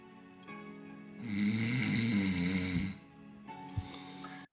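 A loud, sustained snore from a child sleeping with breathing trouble swells for about two seconds, then drops off into quiet breathing.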